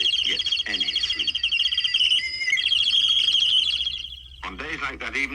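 Bird chirping used as a sound effect in a children's story, a lively run of bright, rapid tweets and trills, loud and close, followed by a brief voice.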